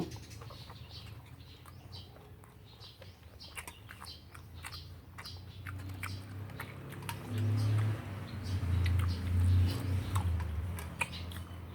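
People eat chicken offal curry with sticky rice, with close wet chewing and small bites and clicks, voices talking now and then, and louder low rumbles toward the end.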